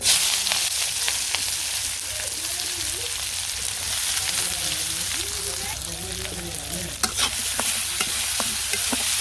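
Chopped onion and cumin seeds fry in hot oil with a steady hiss and crackle, while a voice talks over the cooking throughout.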